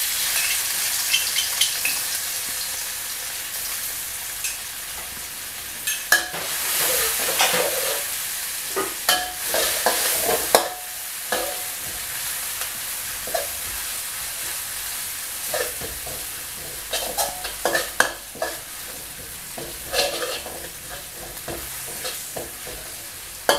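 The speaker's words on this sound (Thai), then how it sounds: "นำพริกกระเทียมของเราลงผัดให้หอมครับ" Chili and garlic stir-fry in hot pork fat in a wok, a bright continuous sizzle punctuated by repeated scraping and clanks of a spatula tossing the aromatics, close and lively.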